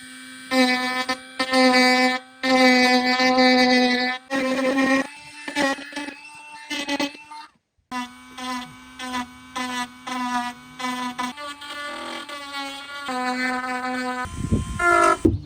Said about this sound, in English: take my Dremel tool and hog out those valleys, round them over a little bit, rough them up